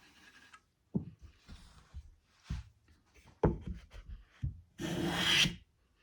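A Bailey hand plane shaves a waxed piece of mahogany in several short rasping strokes, the last pass a longer, louder hiss of cutting wood, heard up close with quiet gaps between strokes.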